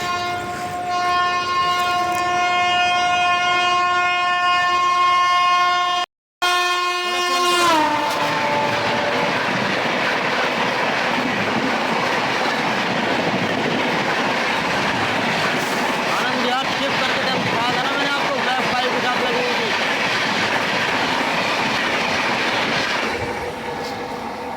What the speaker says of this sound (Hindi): आनंद विहार गोरखपुर हमसफ़र एक्सप्रेस ओवरटेक करने आ रही है